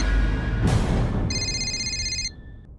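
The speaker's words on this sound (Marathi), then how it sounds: "रिंग तर इथेच कुठेतरी वाजते." A mobile phone rings from somewhere nearby, hidden inside a pillow, a bright electronic ringtone of several steady tones that sounds for about a second after a rustle, then cuts off abruptly into quiet.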